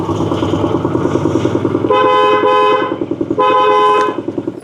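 An auto rickshaw pulls up with its engine puttering, then sounds its horn in two long, loud blasts separated by a short gap, close by.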